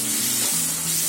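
Tomatoes go into spices already frying in hot oil, and a loud, steady sizzle covers the short stretch with a brief stir partway through.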